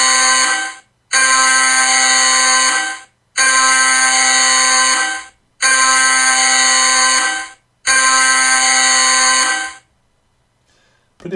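Stock-alert notification software sounds a loud electronic alarm: five long, harsh buzzing blasts of about two seconds each, split by short gaps, then quiet at the end.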